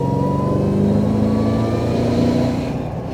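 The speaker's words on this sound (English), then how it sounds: "The exhaust note and induction noise is definitely addictive for those seeking power." A supercharged Chevy LSA V8 in a Land Rover Defender 110 growls loudly up close as it accelerates, its exhaust note and induction roar rising steadily throughout.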